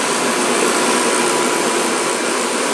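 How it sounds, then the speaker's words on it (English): A gas-fired garage heater runs with a powerful blower fan, giving off a loud, steady, unbroken whooshing roar that holds at an even level throughout. "It does have a very powerful blower though, because I can feel the breeze all the way over here."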